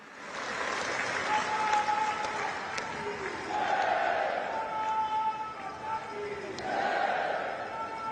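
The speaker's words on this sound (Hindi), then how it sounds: "माननीय प्रधानमंत्री श्री नरेंद्र मोदी जी को आइए जोरदार तालियों के साथ आमंत्रित करते हैं" Sustained loud applause from a large crowd at a public event in Navsari, Gujarat, welcoming the prime minister, a dense continuous clapping that swells and eases, with some voices in the crowd.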